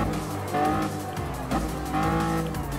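A Lamborghini Countach anniversary model races in the Gran Turismo Sport game, its engine revving loudly and steadily with tire squeals and skidding as it corners, with no voices over it.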